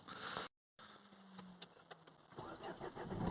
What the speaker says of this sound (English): So we're going to start it up, take it for another little quick drive